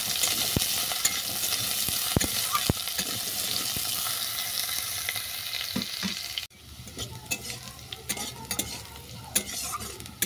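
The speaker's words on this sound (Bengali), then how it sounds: "বিট আর আলু ভালো করে ভাজা হয়ে গেছে" Beetroot and potato pieces sizzle and fry in a pan with panch phoron spices, with steady crackling and repeated scraping stirs of a spatula, loud and close, the sizzle dropping briefly midway before resuming.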